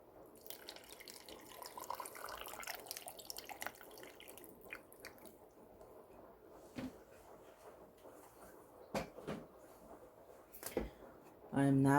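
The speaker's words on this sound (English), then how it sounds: "I'm also going to add lots of water." Water running steadily into a blender jar already holding cucumber and broccoli for a smoothie, a soft continuous trickle and splash at moderate distance, followed by a few clinks and knocks of kitchen handling.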